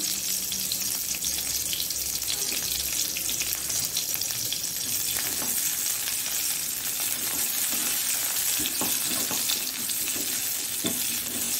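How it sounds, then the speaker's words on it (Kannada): Sliced onion frying in a pan while preparing a Mangalorean prawn coconut-milk gravy, a loud, steady broadband sizzle running throughout with occasional light scrapes and clinks of stirring. "ಇದು ಉದ್ದಕ್ಕೆ ಕಟ್ಟಿಟ್ಟುಕೊಂಡಂತಹ ಸ್ವಲ್ಪ ಆನಿಯನ್ ಅನ್ನು ಹಾಕೊಳ್ತಿದ್ದೇನೆ ನಾನು."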